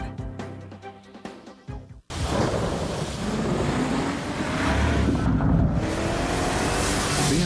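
Heavy rain pours steadily in a thunderstorm, a dense loud wash of noise with low rumbling underneath, starting abruptly after a quieter opening and continuing without talk.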